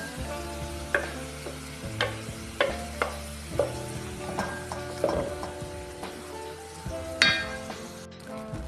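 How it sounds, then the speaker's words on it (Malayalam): Curd being stirred into a hot curry of ground coconut, cumin and mustard paste, with a steady wet sizzle and repeated spoon clinks against the pan at irregular intervals, close and clear with no talking. "തൈര് കൂടെ ഒഴിച്ച് ഇളക്കി ഇറക്കാം"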